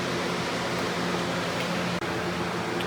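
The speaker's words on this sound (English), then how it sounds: "this air conditioner is blowing, and I'm afraid that it'll be hard to hear" An air conditioner blows steadily, a constant broadband airy hiss with a low hum underneath, even and unbroken apart from one tiny click near the middle, heard in an antique 1919 elevator restoration setting.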